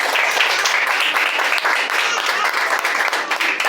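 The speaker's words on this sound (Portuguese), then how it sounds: "Quem pode dar um aplauso a Jesus nessa noite?" A church congregation applauds during a family worship service, steady broadband clapping that fills the whole stretch without pause, loud and close, with a faint murmur of voices mixed in.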